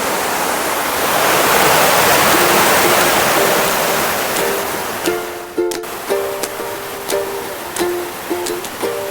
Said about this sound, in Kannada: ವಾವ್ ಭೂ ಸ್ವರ್ಗ ಸುಂದರ ರಮಣೀಯವಾದಂತಹ ಮಂಚಿ ಫಾಲ್ಸ್